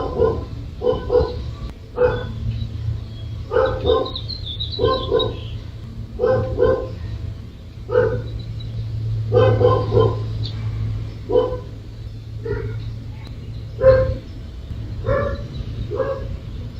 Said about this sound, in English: I've heard the dog already.